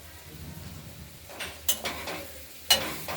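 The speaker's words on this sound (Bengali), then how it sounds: "এখন শুধু ঢেকে ঢেকে ভাজতে হবে।" Thin-cut beet, carrot and sweet potato frying in oil in a covered pan: a quiet hiss of sizzling underneath, broken by a few sharp clattering knocks of the pan or spatula near the end, with no talking.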